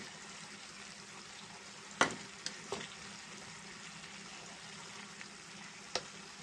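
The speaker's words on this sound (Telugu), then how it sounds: "ఒకసారి కలుపుకున్నామండి మొత్తం మసాలా అంతా కూడా దీనికి కలిసేంత వరకు" Mutton mixed with masala, coriander powder and chilli powder being stirred in a pan, a soft steady sizzle with a few sharp spoon clinks against the pan.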